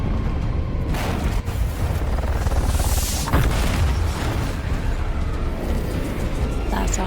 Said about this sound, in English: Big booms for the win.